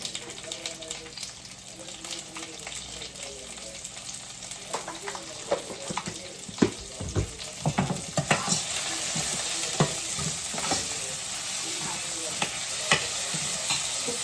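Tomato fries in a curry pan with a soft sizzle that grows busier, marked by frequent scraping stirs and clatters of a spoon against the pan.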